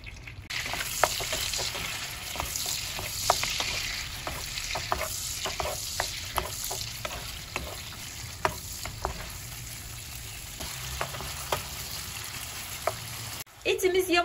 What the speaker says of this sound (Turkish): Şimdi etimizi yüksek ateşte yaklaşık 5 dakika kavuruyoruz.